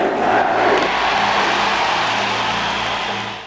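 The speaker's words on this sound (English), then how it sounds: "Can you hear how many people cheer him?" A large basketball arena crowd cheers for a player in the 1980s, a loud, continuous wash of roaring voices that holds steady and fades slightly at the end.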